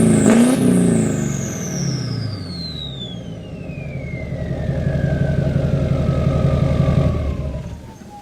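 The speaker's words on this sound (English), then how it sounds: "A sweet turbo noise for you too." Diesel engine turbo spooling down after a fuel filter change, a loud whistle sweeping steadily downward in pitch over a rumbling idle, close and alone.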